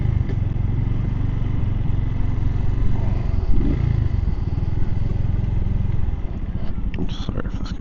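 Suzuki TU250X motorcycle ridden on a cold commute, a steady close engine drone with rattly clatter and wind rush throughout, easing off in the last second.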